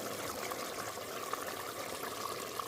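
Water pours steadily into a pan of fish and dried fish curry, a faint continuous trickling stream with no voices.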